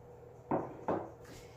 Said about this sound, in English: Next we get to add back in our ground beef.